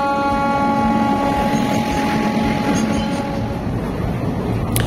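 A train running through Barabhum station, a loud continuous rumble of wheels and carriages with a steady rattle and faint squeal, close and unbroken.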